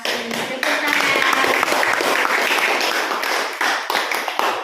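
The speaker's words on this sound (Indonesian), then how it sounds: "Tepuk tangan." A classroom of students claps hands together in a dense, steady burst of applause that fills the room at close range, with no talk over it.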